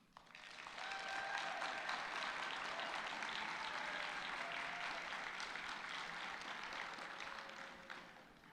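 Sustained applause from a ceremony audience, a steady wash of many clapping hands that swells quickly, holds evenly for several seconds and tapers slightly at the end, heard from some distance.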